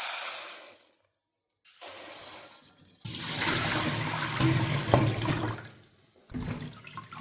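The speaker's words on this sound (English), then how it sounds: "Rinse the rice twice," Glutinous rice being rinsed in water, with a rushing pour and splashing swirl that starts, pauses in silence, resumes and continues at length, close by and fairly loud.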